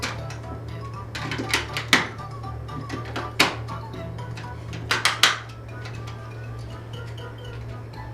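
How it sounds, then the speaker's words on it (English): Clicks and light plastic knocks as four AA batteries are fitted into the battery compartment of an Angry Birds Air Swimmers toy remote controller, scattered taps over a steady low hum. "Install 4 AA batteries into the controller like this."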